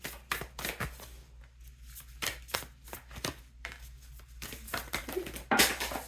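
Crystal reading cards being shuffled by hand in repeated quick riffling bursts with short pauses between, close and fairly loud, with no talking.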